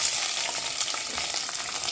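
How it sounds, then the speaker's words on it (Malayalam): Onions sizzle and fry in oil in a pan, a steady close crackling hiss with faint stirring throughout, no voices. "ഞാൻ ഉള്ളിയും തക്കാളിയൊക്കെ വാട്ടാൻ പോവാണ് കേട്ടോ"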